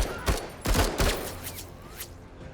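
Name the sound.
single gunshot in video game Menace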